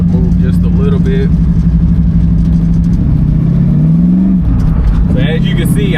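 A 1965 Ford Mustang's engine revs loud and close as the car takes a corner, its steady rumble rising in pitch toward the end before settling, with no talk over it.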